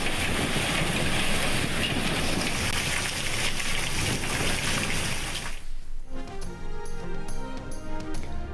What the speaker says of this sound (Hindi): मुल्क के बालाई और पंजाब के मुख्तलिफ इलाकों में मूसलाधार बारिश।